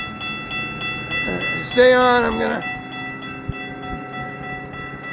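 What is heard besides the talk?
train passing on FEC railway line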